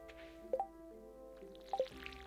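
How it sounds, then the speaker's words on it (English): Watering crops in the farming video game Stardew Valley: two quick pairs of bright, plinking drip and splash sounds over a quiet, soft game music background. "I need to go put some water in Lady Guinevere's stuff."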